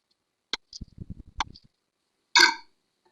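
Cold process soap batter for a kaleidoscope pull-through gives soft gloopy pops and a louder close burp-like gulp after each pour, with no talking.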